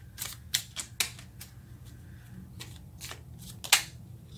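A tarot card drawn and shuffled from a deck, a series of quick close papery snaps and flicks in an irregular rhythm over a quiet room, with no talk.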